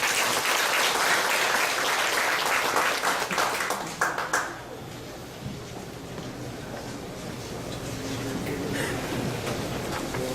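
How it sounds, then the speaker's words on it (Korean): A church congregation applauds to welcome a pastor to the pulpit. The dense clapping is loud for about four seconds, then tapers off abruptly, leaving a quiet, murmuring room. "박수로 맞이했습니다."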